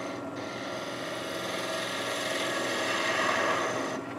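A steady, rasping scrape of a spindle tool paring wood on a spinning top turning on a lathe, continuous and close with a faint motor hum beneath, no talk.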